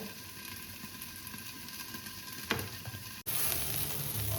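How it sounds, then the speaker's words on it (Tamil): Ivy gourd sautéing in hot oil gives a continuous moderate sizzle and crackle; partway through a brief clatter, likely a lid, interrupts it before the frying hiss resumes, louder and brighter. "எண்ணெயில் நல்லா கலந்தோம்னா நல்லா மூடி வச்சு கொஞ்சம் வேகட்டும்."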